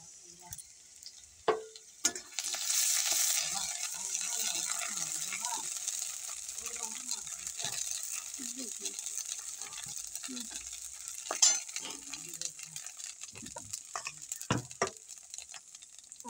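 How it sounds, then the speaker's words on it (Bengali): Onions fry in a pan for muri ghonto, a steady close sizzle with scraping stirs and occasional clinks of the utensil, and a voice briefly heard now and then. "মুড়িঘণ্ট বানাইতাম, একটু পেঁয়াজ ভাজি,"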